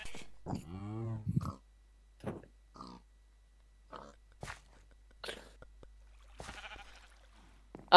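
Sheep in the Minecraft video game give short, scattered bleats, separated by quiet gaps and a few other brief game sounds, with no speech.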